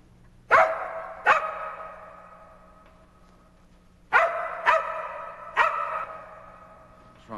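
A dog barks five times in a film scene: two barks, a pause, then three more in quick succession. The barks are loud and nearby, and each one echoes over a low steady hum.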